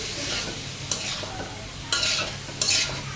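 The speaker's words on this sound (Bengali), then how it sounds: "ভালো করে কষিয়ে নিচ্ছি।" Beef tongue sautés in a pan with potatoes, a soft continuous sizzle broken by a few louder scraping stirs of the spoon, close up with no talking.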